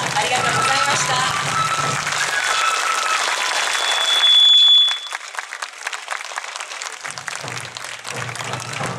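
A crowd applauds a Morioka Sansa Odori dance on an outdoor plaza stage at a traditional performing arts festival. Dense, loud clapping runs for several seconds, then thins into scattered claps while a voice speaks over it.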